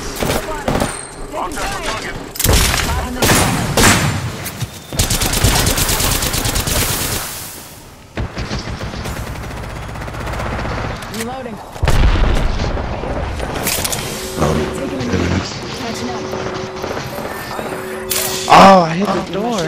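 Loud automatic gunfire rattles through an Apex Legends match in repeated bursts, along with heavy impacts and a brief lull midway. Players talk throughout.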